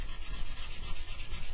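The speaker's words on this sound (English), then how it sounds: "I'm going to do exactly the same as what we did at the beginning with my little sanding sponge. I'm just going to rub this all the way back." A sanding sponge rubs back and forth over painted wood, a loud, close, continuous scratchy rasp with a quick repeating stroke rhythm.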